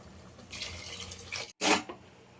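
Water is poured into rice for vegetable biryani, two glasses of water to one of rice, giving a soft splashing pour followed by a brief louder gush.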